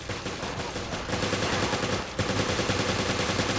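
Rifle fire from the Resident Evil Revelations video game, Raid Mode, rattles in rapid, dense bursts of repeated shots, loud and continuous, with a short break partway through.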